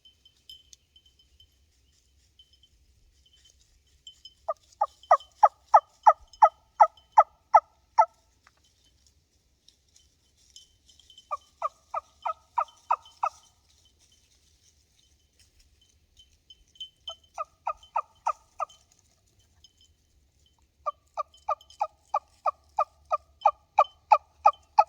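A wingbone turkey call with a sliding radius bone gives rapid series of sharp yelps in four bursts, each a quick run of clear, piercing notes separated by short pauses, close and loud with no talking.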